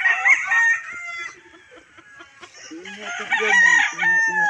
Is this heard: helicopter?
no